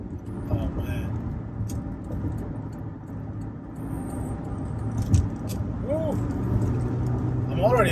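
A high-mileage Toyota Highlander with its original naturally aspirated V6 and transmission accelerates on the road, giving a steady, moderately loud engine drone and road rumble beneath the driver's talking.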